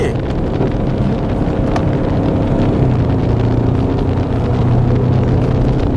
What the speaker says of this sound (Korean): 이 엔진 음색이